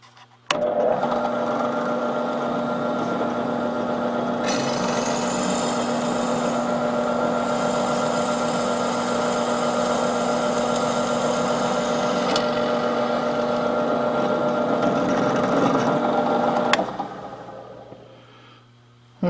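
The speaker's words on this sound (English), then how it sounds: "So I center punched it, and now it's time to drill it out." A drill whines steadily into a center-punched metal gun barrel part of a Remington Bulldog, about sixteen seconds of constant high-pitched grinding drone that shifts slightly partway through, then stops abruptly.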